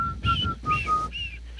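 Several short whistled notes with pitch glides, close and clear, in a brief tune-like phrase with small gaps between notes.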